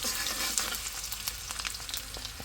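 Chopped ginger and garlic fry in a pan with a close, crackling sizzle and scattered sharp pops throughout, with no voices.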